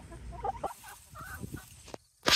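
Backyard hens in a Maryland garden cluck softly in a few short, uneven bursts at low volume. A brief, louder noise comes at the very end.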